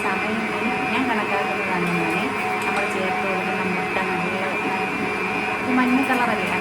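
An electric mixer whips cake batter with sugar, giving a steady, continuous motor whir that holds throughout while someone talks over it.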